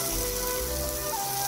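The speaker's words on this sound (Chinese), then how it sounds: "煎的时候我们可以用锅铲轻轻摁一下" Mushrooms pan-fry in a hot pan, giving a steady, close sizzle with no talking.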